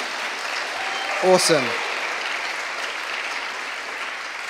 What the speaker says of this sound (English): Let's give Dave a cheer.